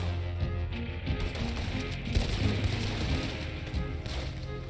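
Gunfire in a Red Dead Redemption 2 shootout crackles as dense, overlapping reports and thuds under a busy, sustained background of game sound, loud and continuous throughout.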